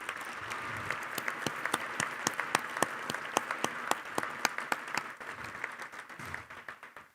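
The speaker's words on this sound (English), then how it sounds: "if you can join me in a round of applause for them" Audience applause at a 30th anniversary thanksgiving tribute, with sharp individual claps standing out from a softer wash of clapping, quiet and moderately sized, tapering off near the end.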